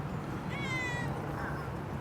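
A cat gives a short, rising meow followed by a softer second call, close by against a low steady background hum.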